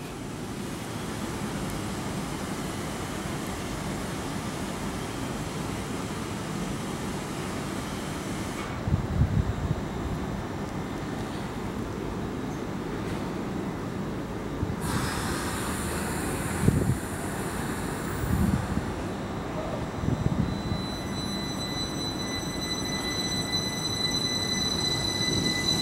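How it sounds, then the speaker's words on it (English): Heathrow Express Class 332 electric train departing London Paddington for Heathrow Terminal 5, a steady low rumble of wheels and motors under a broad station hiss, with occasional knocks and a faint high whine building later. "332002 departs Paddington for"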